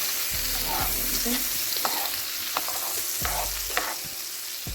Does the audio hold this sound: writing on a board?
no